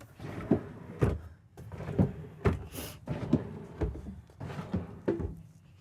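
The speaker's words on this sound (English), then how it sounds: "I'm just going to go ahead and open up all that storage" Storage cupboards and drawers in a 2024 Newmar Super Star 4065 luxury Super C motorhome opened one after another, a regular series of about a dozen close, solid thunks and clacks with no talk.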